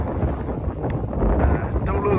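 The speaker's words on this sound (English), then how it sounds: "Very windy today." Gusty coastal wind by a pier at Cromer buffets the microphone in a low, rushing roar that swells toward the end.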